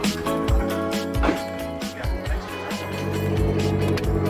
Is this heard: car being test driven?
yes